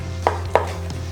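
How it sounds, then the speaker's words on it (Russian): A knife chops chicken on a board while preparing Greek gyros: two sharp, close knocks about a quarter second apart over a low steady hum, then a fainter third tap. "Курицу можно нарезать"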